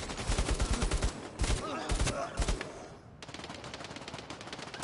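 Rapid automatic gunfire in the VR shooter Bravo Team, with loud, dense bursts of shots, a brief pause, then another sustained volley.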